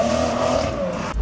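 A 2021 Toyota Supra engine held high while driving, a loud, sustained buzzing drone recorded from inside the car, ending with a brief thump.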